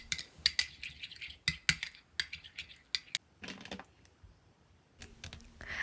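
A homemade lavender-oil lip balm mixture is stirred in a small container, producing a string of quick, sharp scraping taps close up, in irregular bursts with brief pauses, and no talking.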